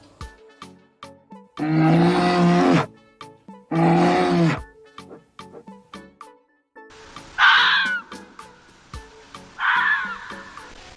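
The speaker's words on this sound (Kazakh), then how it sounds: "Түлкі." In an animal sound guessing quiz, a fox gives two short, high, rasping calls a couple of seconds apart, following two deeper growls, with steady ticking clicks in the quiet gaps.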